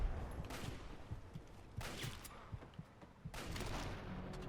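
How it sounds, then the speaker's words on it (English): Rapid hunting rifle gunfire in Fallout 3, with three loud bursts of repeated shots and echoing reports separated by quieter gaps, all near and sharp. "he's got a hunting rifle. That's doing absurd damage and fire rate"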